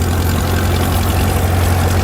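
A heavy antique tractor engine idles close by at a steam threshers parade in Rollag, Minnesota, a loud, steady low thrum with an even chug and nothing else heard.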